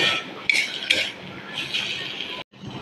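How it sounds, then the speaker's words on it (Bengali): Fried greens being lifted out of a pan: a spatula or spoon scrapes and clinks against the metal in a few sharp knocks over a soft background hiss, close and fairly quiet. "শাক ভাজাও রেডি, এবার তুলে নেব।"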